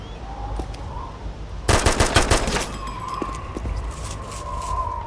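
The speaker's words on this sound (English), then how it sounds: "Absolutely horrible shooting." A fast burst of automatic gunshots in DayZ on the Namalsk map, loud and sharp for about a second, followed by a few scattered fainter shots against a quiet outdoor ambience.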